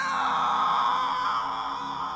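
A single long, high scream from the film The Lord of the Rings rings out, sustained and wavering, heard alone.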